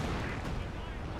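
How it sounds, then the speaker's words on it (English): Calliope rocket artillery striking in Company of Heroes 2 on the Port of Hamburg map, a dense, continuous roar of overlapping explosive impacts filling a brief moment. "We actually might see a caddy get some good shots here."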